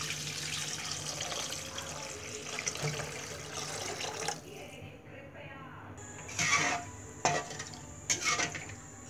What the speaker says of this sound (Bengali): এবার পরিমাণ মতো পানি ঢেলে দিব।